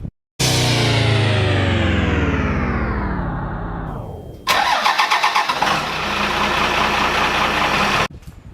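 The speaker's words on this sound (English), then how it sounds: "All right, guys, so here it is. Engine installed. Cummins" A Cummins 12V 5.9 6BT diesel with a P-pump, from about 1994–1997 and swapped into a Land Cruiser, cranks over with a starter whine that sags and drops away, then a loud, close, chattering rumble holds steady before cutting off abruptly.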